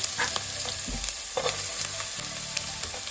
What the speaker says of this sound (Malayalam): ആദ്യം കുറച്ച് ഉലുവായൊക്കെ മുഴുവനോടുള്ള ഉലുവായൊക്കെ ഇട്ട് കൊടുക്കുക